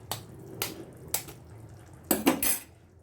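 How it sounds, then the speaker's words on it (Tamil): Two eggs being cracked and tipped into a simmering egg curry: a few sharp clinks spaced apart, then a louder cluster of knocks and a brief pour near the end, close up with no talking. "இப்போ நம்ம வந்துட்டு ஒரு 2 முட்டையை வந்து உடச்சி சேர்த்துக்கலாம்"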